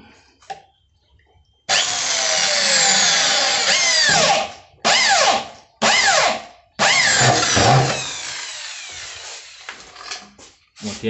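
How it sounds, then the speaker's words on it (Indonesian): A loud power drill whines in several bursts while boring holes in PVC pipe, one long run followed by shorter pulses, close up and alone. "Dan sekarang kita akan bor, kita lubangi."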